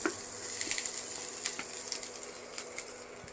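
Mustard seeds crackling and spluttering in hot oil as spices go in for a Kerala-style kadala curry, a dense continuous sizzle with scattered sharp pops, close and steady.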